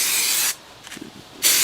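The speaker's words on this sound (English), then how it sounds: "I'm just going to spray it." Glue mix hisses from a spray bottle onto model railway hedges in two loud, close bursts separated by a brief quiet gap with faint handling noises.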